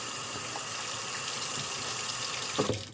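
Tap water running steadily into a kitchen sink while dishes are rinsed, a constant close rushing flow with a brief splash near the end as the stream breaks off.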